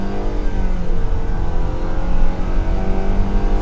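A 2024 Nissan Sentra SV Premium accelerates at full throttle, its engine droning in a steady, strained hum heard from inside the cabin with a low road rumble underneath.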